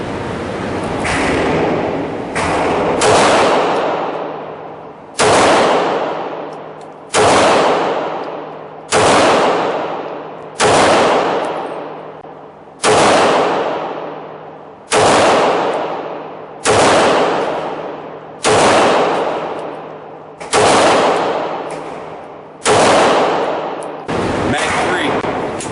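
Glock 19 pistol fired at an outdoor range during a second magazine, a steady string of about a dozen loud, sharp shots spaced roughly a second or two apart, each with a short decaying echo, no talking.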